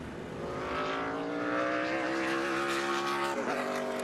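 A NASCAR Cup car at speed on a qualifying lap for the 2017 Firekeepers Casino 400, its engine a loud, steady, rising drone that shifts pitch as the car passes close by.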